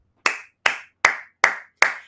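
Five sharp hand claps, close and loud, spaced evenly about half a second apart, each with a quick decay into silence and no talk.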